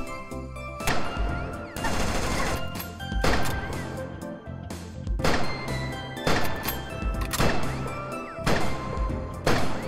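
Gunfire in the video game Neko Arena: loud, close shots come in repeated bursts with brief gaps between them, each one ringing out sharply.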